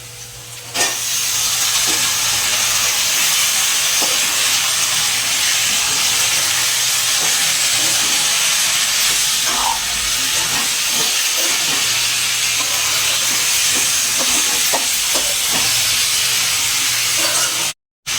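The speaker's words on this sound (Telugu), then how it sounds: "ఇప్పుడు ఇందులో చికెన్ వేసి కలపాలి" Chicken hits a hot pan for a simple chili chicken curry and is stirred, giving a loud, continuous hiss and sizzle with scattered scraping clicks throughout.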